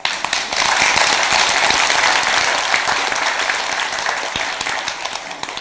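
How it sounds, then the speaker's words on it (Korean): Audience applause during a Sunday dharma talk at a Buddhist temple, a loud, dense burst of many people clapping that rises quickly and holds steady before gradually thinning. "진짜 박수 주셔야 됩니다"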